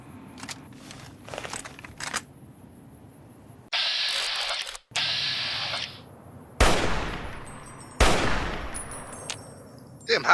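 Sniper rifle shots in Fallout New Vegas: a few loud, sharp cracks spaced seconds apart, each trailing off in a ringing echo, amid quieter game sounds and softer clicks.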